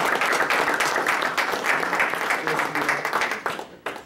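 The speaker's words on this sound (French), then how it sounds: "ça en vaut une deuxième main d'applaudissements" Audience applause at a French-language cattle genetics training session, a broad burst of many hands clapping that holds steady, then thins into scattered last claps near the end, with a voice speaking underneath.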